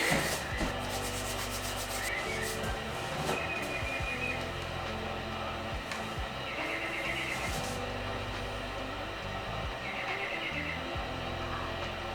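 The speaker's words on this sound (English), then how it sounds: "Make sure you chalk." Chalk being rubbed onto the hands before a hangboard hang on a 25 mm half-crimp edge, a dry, steady scuffing and rustling that carries on close by with no talk.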